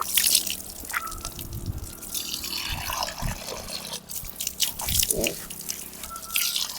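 Water splashes and drips as the face is washed during wudu, the ablution before prayer, in a string of close, wet scoops and spatters with brief pauses between them.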